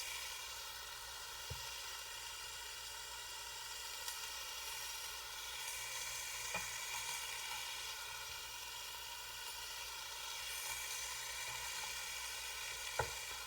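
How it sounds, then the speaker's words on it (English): Onions frying in a pan for goulash give a faint, steady sizzle throughout, with a few soft clicks of utensils and no talking. "now add the onions and then cook it for like however long it takes for the onions to get soft"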